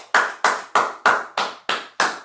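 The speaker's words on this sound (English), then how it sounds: "Let's give her a round of applause." Clapping at a business networking meetup; seven sharp, close hand claps land in a steady, evenly spaced rhythm, each clap crisp and separate.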